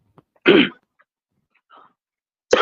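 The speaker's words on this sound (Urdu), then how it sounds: "کھانسی کھوسی کر لیں سکون سے" A single hard cough near the start, a faint throaty sound after a pause, and another cough breaking out at the end.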